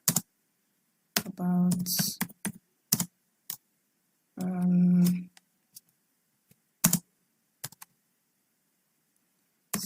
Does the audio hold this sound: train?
no